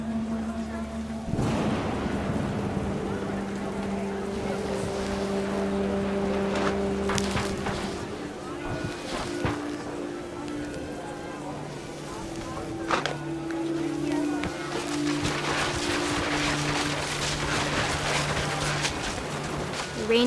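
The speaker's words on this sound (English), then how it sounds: "The rain came down in buckets then" Heavy rain and gusting wind in the video game What Remains of Edith Finch: a steady, dense wash of downpour with occasional deep rumbles, layered under sustained tonal music throughout.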